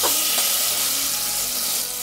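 Butter hits hot vegetable shortening in a pan and sizzles and fries with a steady, loud hiss that fills the whole moment, close up, with no talking.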